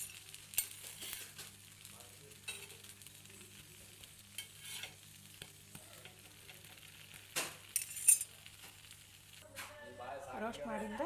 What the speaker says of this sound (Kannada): ಆ ಕಡೆ ಈ ಕಡೆ ತುಪ್ಪ ಹಚ್ಚಿ ಸ್ವಲ್ಪ ರೋಸ್ಟ್ ಮಾಡ್ಕೋಬೇಕು